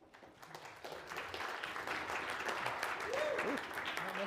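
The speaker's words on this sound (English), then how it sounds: "Round of applause for Tim Wilson." An audience at a live conference session applauds, clapping swelling from soft to a steady, fairly full level at a moderate distance, with a voice briefly heard over it near the end.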